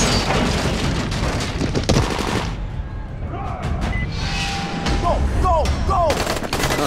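Gunshots in the zombie survival game Dying Light, with a loud rattle of rapid shots over dense noise, then a quieter stretch carrying a voice and short sharp tones, before more shots break in near the end.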